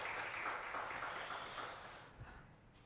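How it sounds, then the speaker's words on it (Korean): A church congregation at a Sunday worship service claps to welcome back a returning brother, a steady wash of applause that fades over a few seconds, moderately close. "박수로 환영하도록 하겠습니다"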